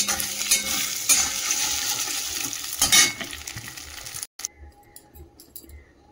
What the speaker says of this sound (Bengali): আর এদিকে ডিমটা ভেজে নিচ্ছি।